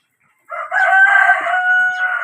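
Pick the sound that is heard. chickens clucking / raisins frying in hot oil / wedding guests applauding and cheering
chickens clucking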